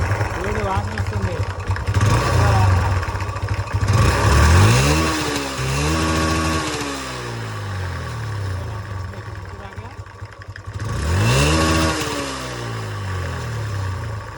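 A vehicle engine runs and revs repeatedly, its pitch sweeping up and down in several loud surges between steadier idling, with someone talking over it throughout.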